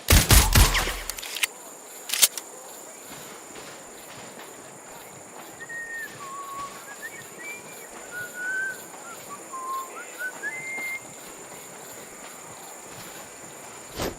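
A sharp burst of gunfire in the video game Sniper Ghost Warrior Contracts 2 opens the scene and is followed by a single loud shot. Afterwards the scene falls quiet apart from faint, scattered bird calls.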